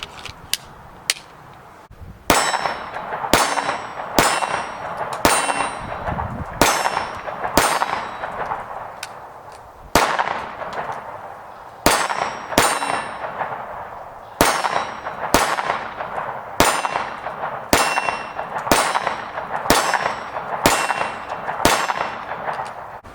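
Taurus G2C 9mm pistol firing steel case ammunition outdoors, a long string of sharp, loud shots in quick irregular bursts with brief pauses between, each crack ringing with a metallic clang, no talking.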